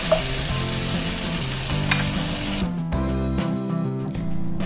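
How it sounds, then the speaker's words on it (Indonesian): Tempeh stir-fried in a pan, a loud continuous sizzle with scraping strokes of the spatula; the hiss drops away sharply partway through, leaving a quieter sputter and stirring. "Tumis-tumis terlebih dahulu tempenya biar agak sedikit mengeluarkan aroma dari tempenya ya."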